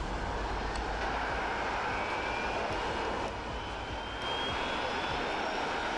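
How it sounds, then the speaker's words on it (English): A Concorde jet in the World of Airports game roars steadily during takeoff, a loud, continuous broadband engine rush that holds evenly throughout with no voices. "we're gonna follow this Concorde to take off"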